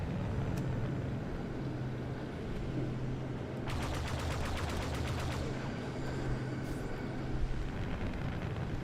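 Rapid bursts of turret gunfire rattle out in a starfighter space battle among cruisers and a battleship in Star Wars Battlefront II, a dense stream of shots over a steady engine drone, loud and fairly near.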